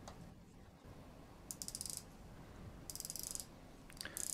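The bezel of an Audaz Pacific Blue automatic dive watch being turned in three short bursts of rapid, faint ratcheting clicks, recorded close up in near silence.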